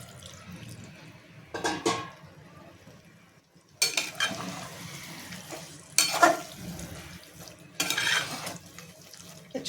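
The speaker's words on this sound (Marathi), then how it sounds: "थोडं मी अजून ॲड करते पाणी त्याच्यामध्ये" Water is poured in several splashy bursts into a pan of potato gravy as it is stirred on the stove, with short quiet gaps between pours.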